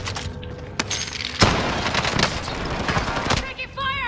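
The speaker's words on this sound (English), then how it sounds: "taking fire! I've been hit!" Call of Duty Warzone gunfire, bursts of automatic weapon shots and sharp cracks in quick succession, loud and near, with a player shouting over the fighting.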